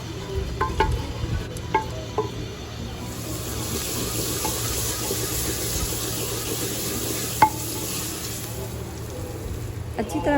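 Onions, green chillies and a roasted tomato are mixed into smoky baingan bharta, with a soft continuous stir and faint sizzle under a steady background hum, punctuated by a few light clicks of the spoon against the pan.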